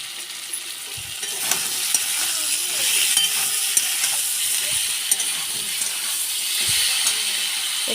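Steady broadband sizzle of tomatoes cooking with salt in a frying pan, with faint soft scrapes and taps of stirring scattered through eight seconds of continuous close frying noise, no voices.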